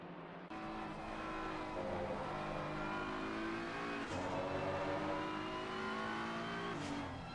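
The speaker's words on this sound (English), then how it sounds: "sounds at the moment of these GT3 machines blasting down a very long restore straight" GT3 race cars in a sim racing game blast down a long straight, their engines climbing in pitch through several gear changes. The sound stays loud and sustained, with a few sharp shifts, and no one talks.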